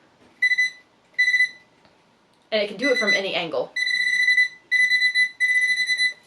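A Nokta Makro PulseDive underwater pinpointer metal detector sounds a high electronic beep in short repeated bursts, pausing while someone speaks, then returns with longer, closely spaced tones.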